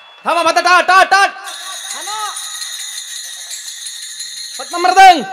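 Taal hand cymbals in a kirtan hold a sustained bright metallic shimmer after a short burst of a voice, ringing steadily for a few seconds before his voice returns at the end.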